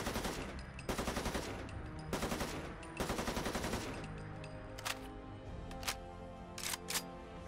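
A modded weapon firing in Fallout 4: bursts of rapid, loud gunfire, then a few sharper single shots trailing off, with no talking.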